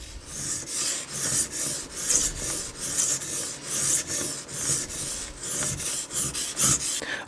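Benchmade 940 folding knife with a damaged edge drawn across a whetstone in repeated rasping strokes, roughly one per second, steady and close with no talk.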